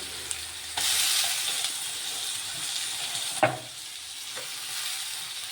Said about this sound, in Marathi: आता मी त्याच्यात टाकलं टोमॅटो.